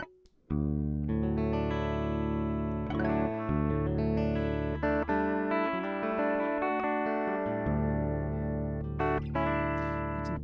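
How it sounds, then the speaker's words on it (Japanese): A sustained electric guitar plugged directly into a Yamaha AG06 through a reverb pedal plays chords and single notes, ringing out with a washy, reverberant tail and some distortion, loud and alone. "ちょっとエレキをつないでみます。直で、エフェクター、リバーブとかちょっと通してかけてみますね。"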